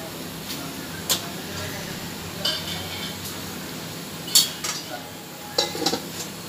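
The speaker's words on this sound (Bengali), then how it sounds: "এটা আমি এবার ডাল ঘুটনি দিয়ে ভালো করে বেসনগুলোকে ছাঁচের মধ্যে গুলে নেব" Steady scraping and clinking of a dal masher stirring thick gram flour (besan) batter in a bowl for kadi pakoda, with sharper clinks as the utensil strikes the rim, close by and fairly quiet.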